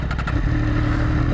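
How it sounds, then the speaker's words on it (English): A Triumph Daytona Moto2 765 motorcycle engine revved with quick throttle blips, close and loud with a buzzy mid-range tone, the revs climbing briefly and then holding. "Just revving that throttle, it feels very responsive."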